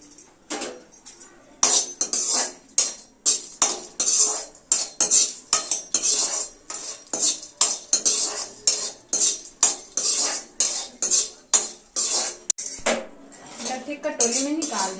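A kadhai pan and metal utensils clatter on a gas stove, with dense, rapid clinks and scrapes repeating in a steady rhythm, close and fairly loud.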